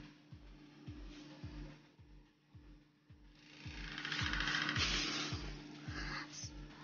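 A Sharp microwave oven running: a steady low hum with a regular clicking pulse about once a second, and a louder whirring rise in the middle.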